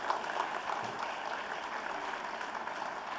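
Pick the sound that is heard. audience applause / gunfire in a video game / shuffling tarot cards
audience applause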